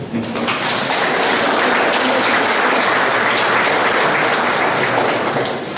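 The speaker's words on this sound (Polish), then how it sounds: "Można klaskać." Sustained, loud applause from an audience greeting a painting professor at a national painting biennale summary event at a university venue in Olsztyn, steady and dense throughout without fading.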